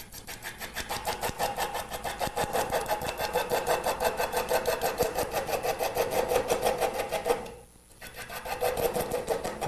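A wood lathe turning a mesquite blank at about 400 RPM for a Christmas tree piece, giving a steady rhythmic rasping scrape of tool against spinning wood, near and continuous, with one brief pause partway through.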